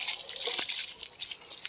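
Water is poured from a container onto potted plant soil, a soft, close trickle with light dribbling splashes that stays fairly quiet throughout.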